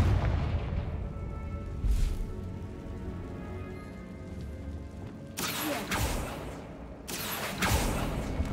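A blasting-curse explosion from the Hogwarts Legacy video game, two loud broadband bursts with rumbling low-end tails following a stretch of quieter ambient game sound.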